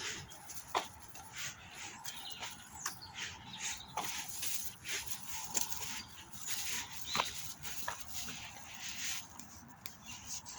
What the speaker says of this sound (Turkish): Onun için kuşlar da ötüyor.